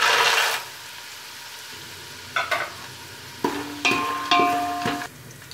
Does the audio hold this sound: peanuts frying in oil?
yes